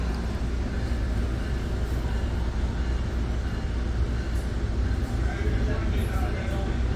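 An exo commuter train on the Saint-Jérôme Line pulls out of Lucien-L'Allier station, a steady, close low rumble of wheels and carriage noise that holds evenly throughout.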